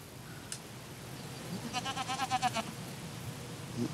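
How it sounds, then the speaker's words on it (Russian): A goat gives one short, wavering bleat at moderate distance over quiet background noise. "Коза."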